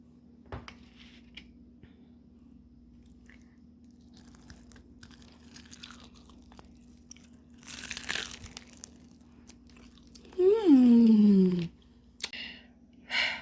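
One short, crisp crunch of a bite into hot honey fried chicken in a quiet room with a low steady hum, followed by a brief drawn-out vocal sound.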